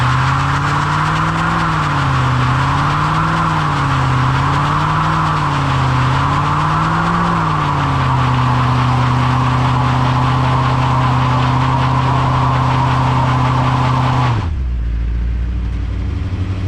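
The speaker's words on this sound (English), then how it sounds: "proper way to test the car for running and driving correctly is burnouts." A car engine revs hard and steadily during burnouts, a loud continuous roar with wavering pitch early on, then a held high drone that drops abruptly to a low idle near the end.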